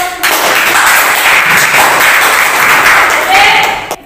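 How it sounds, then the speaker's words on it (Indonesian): A classroom of students applauds together, loud, sustained clapping from many hands close by that holds steady for several seconds and then cuts off abruptly. "oke, berikan aplaus"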